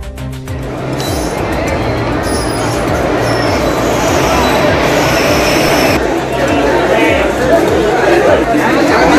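A crowded passenger train rumbles along with rhythmic wheel clatter and occasional squeals during the Pongal festival travel rush in Tamil Nadu, while passengers chatter loudly around it.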